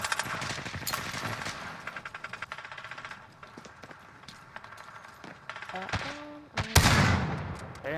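Gunfire in the video game Call of Duty, with rapid bursts of shots and a couple of louder, sharper reports near the end, while players talk over it.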